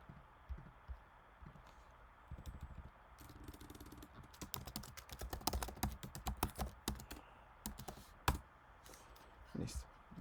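Close clicking of computer keyboard keys in irregular bursts of typing, with someone speaking Spanish quietly at times alongside it.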